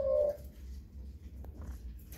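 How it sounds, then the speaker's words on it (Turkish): White laughing dove chicks give a short, clear coo at the start, then only faint low background rumble remains. "Beyaz kumru yavruları."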